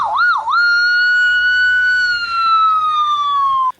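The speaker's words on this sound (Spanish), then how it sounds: "Si hay una ambulancia que se me está acercando y está haciendo" An ambulance siren wails close and loud, a quick warbling rise and fall giving way to one long sustained tone that slowly slides lower before cutting off.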